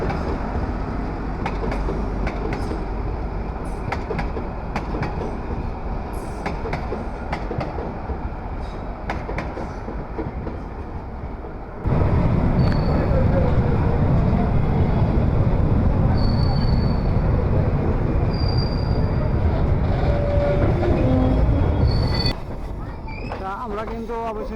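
A meter gauge train rumbles along steadily, its noise growing louder and fuller midway, with faint voices and a few brief high squeals over the running sound.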